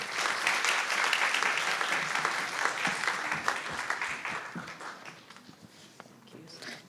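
An audience at a fertility and endometriosis panel applauds to welcome the doctors with a sustained burst of close clapping that gradually thins and fades toward the end.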